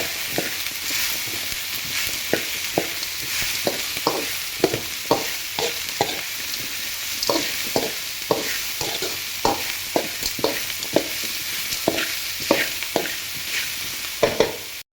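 Bitter gourd stir-fries in a pan with rock salt and turmeric, a steady sizzle under a regular run of spoon scrapes and clacks, close and fairly loud, with no voices.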